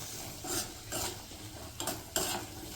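Fresh green pigeon pea seeds being sautéed in a pan with chili and garlic, a steady sizzle broken by rhythmic scraping strokes of a spatula, close and moderately loud, with no one speaking.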